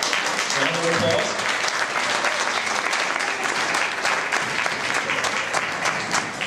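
Guests at a dinner dance give a round of applause for an honoree. The clapping is loud and continuous, and a voice is briefly heard at the start.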